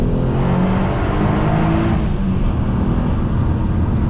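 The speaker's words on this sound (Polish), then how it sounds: "jest to zdecydowanie najładniej gadająca sześciocylindrówka, jaką miałem okazję jeździć" A 2003 Alfa Romeo 166 with a 3.0 V6 engine accelerates hard, its loud, continuous engine roar and road rush filling the space throughout.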